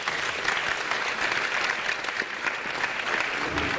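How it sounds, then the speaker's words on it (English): Audience applause at a student Pride debate event, a dense, steady clatter of many hands clapping close by, sustained and even for the whole stretch. "So give yourself a big applause."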